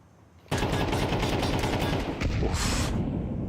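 Rapid automatic gunfire in a Counter-Strike competitive match, a dense loud burst of rattling shots sustained for about three seconds with a short break, no talking.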